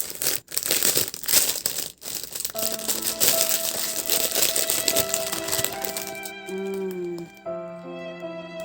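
Crinkling plastic and tearing packaging open a makeup brush set and eyeshadow palette, with close rustles and rattles that carry on as bright sustained musical tones rise underneath in the second half.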